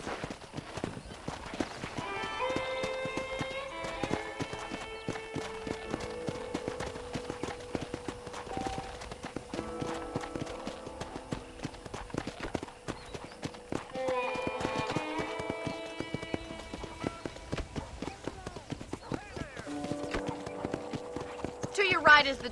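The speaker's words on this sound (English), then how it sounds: "I picked out a fine horse for you." Rhythmic clip-clopping of horse hooves runs steadily under music and voices, with a horse whinny partway through, in the video game Red Dead Redemption.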